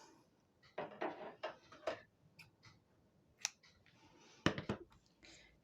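Scissors snip through felt for a toy mouse in a few close, quiet bursts of short cuts separated by pauses, with no voices.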